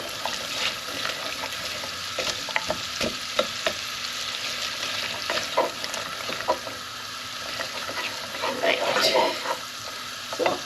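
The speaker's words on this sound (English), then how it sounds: "So I've got another butter in the pan there, and I'm just going to add in the onions" Onions frying in melted butter in a pan, a steady close sizzle with occasional stirring scrapes and small pops throughout, no talking.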